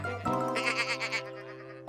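A cartoon sheep on a farm gives one sustained, wavering bleat, loud and close, with no other sound.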